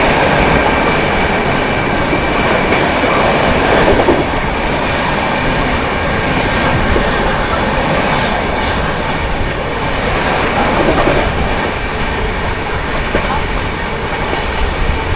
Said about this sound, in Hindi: क्या खतरनाक रफ्तार में स्किप किया है अपनी बिहार संपर्क क्रांति ने इटावा जंक्शन को।